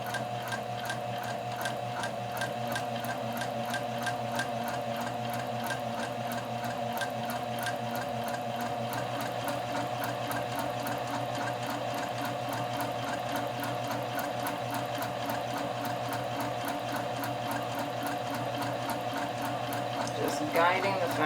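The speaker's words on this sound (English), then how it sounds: "stitch all the way along through this folded fabric" A sewing machine runs steadily, stitching a long seam along folded fabric with a continuous, even mechanical hum and rapid rhythmic needle ticking, close and uninterrupted throughout, with a light knock at the finish.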